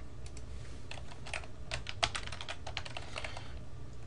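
Someone types a command on a computer keyboard, a close run of quick, light key clicks in an irregular rhythm with one firmer keystroke midway, alone over a quiet room hum.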